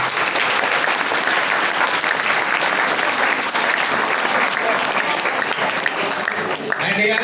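Loud, sustained applause fills a quiz competition room, a thick continuous clatter of many hands clapping that only breaks up as a voice starts speaking at the very end.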